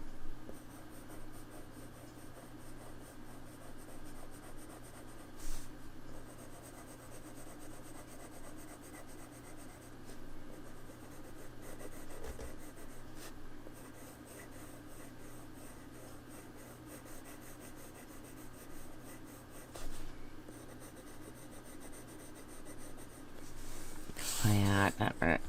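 Black Widow wax coloured pencils drawn across paper, a long stretch of soft continuous scratchy rubbing strokes at close range, quiet and steady with brief pauses.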